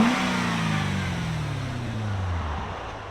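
A 2008 Chevy Corvette with an LS3 V8, Magnaflow exhaust and X pipe gives a deep, loud rev that rises and then winds down over a few seconds, with no one talking.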